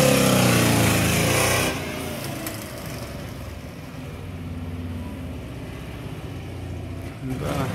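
A ZAZ-968M car engine idles steadily and evenly, a low rumbling drone heard close by, louder and rougher at first before settling into a quieter, smooth idle that swells again briefly at the end.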